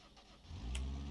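A 2-litre car engine in the driving game BeamNG.Drive cranks and catches, rising from low rumble into a steady idle in the second half, with no talk over it.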